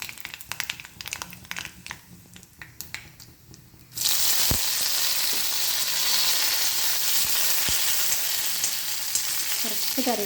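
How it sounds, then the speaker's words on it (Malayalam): Mustard seeds and a dried chili crackle and sizzle in hot coconut oil, a loud dense frying hiss that starts abruptly partway through after quieter kitchen clatter, with sharp pops throughout. "കടുക് പൊട്ടുമ്പോൾ 1 ഉണക്കമുളക് ഇട്ട് കൊടുക്കുന്നുണ്ട്."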